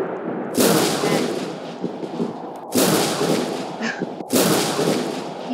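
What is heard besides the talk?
thunderstorm thunder in the video game Roblox Natural Disaster Survival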